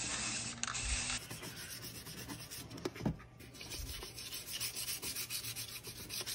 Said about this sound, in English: Light sanding.